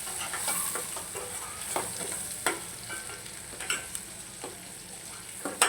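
A spatula stirs spinach and potato curry masala with garam masala and chili powder in a pan, giving sporadic scrapes and taps over a faint, steady sizzle. No one speaks.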